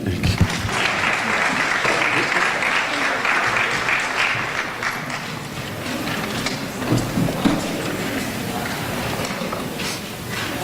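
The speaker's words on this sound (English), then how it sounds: "Let me get one more huge round of applause for all of these wonderful, wonderful scholarship recipients." An audience at a career and technical education scholarship signing day in St. Petersburg claps loudly and steadily for about ten seconds, a dense, sustained round of applause filling a large room.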